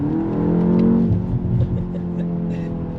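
A 2025 BMW M235 engine revs up to a loud peak and then eases back down, a close, throaty roar that fades into a lower rumble.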